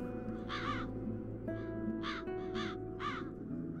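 Crows caw in the Satinavs Ketten game, a series of about five harsh, wavering calls in bursts over a steady low ambient hum, with no talk.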